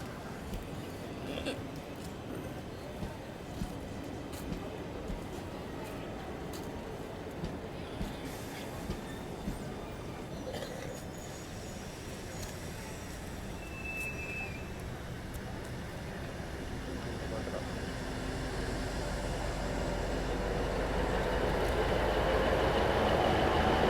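The Kacheguda-Tuticorin express running on the rails, a continuous low rumble with faint rhythmic clacks, heard from on board and rising steadily in loudness toward the end.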